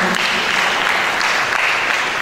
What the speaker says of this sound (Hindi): ताली बजा दो बच्चों के लिए।